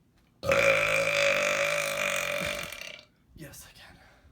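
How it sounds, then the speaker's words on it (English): A long, loud, drawn-out burp rolls on for about two and a half seconds, followed by a shorter, softer belch a moment later, close to the mic with no talking. "All my burps have personality."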